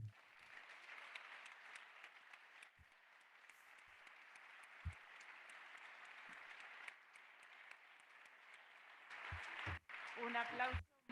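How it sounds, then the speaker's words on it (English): An audience at the World Blindness Summit gives steady applause, a broad wash of clapping heard from a distance that swells louder near the end. "That's a very well-deserved applause."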